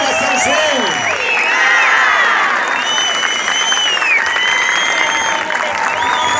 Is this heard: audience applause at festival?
yes